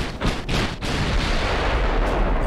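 Battleship main guns firing in the naval game Ultimate Admiral: Dreadnoughts, loud booming blasts close together that give way to a heavy, sustained rumbling roar, with no voices.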